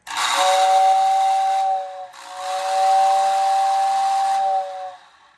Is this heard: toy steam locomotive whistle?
yes